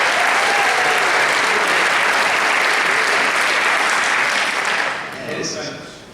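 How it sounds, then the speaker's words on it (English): An audience at a comedy show in a theater breaks into loud, sustained applause, many hands clapping close and full for several seconds before tapering off near the end. "Give yourselves a round of applause for coming out and supporting comedy."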